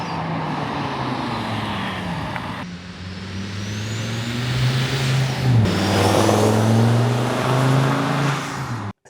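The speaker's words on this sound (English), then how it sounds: "they built us a full titanium exhaust to go under the vehicle, which just gives it so much better sound" A VW T5 Transporter van engine with a full titanium exhaust revs up and holds, its throaty exhaust note rising and falling, loud and close, with no voices.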